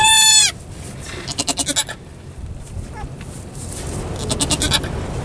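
A goat in labor bleats loudly and close at the start, then lets out a run of rapid, quavering cries, with softer bleats and a rising call later over a faint windy background.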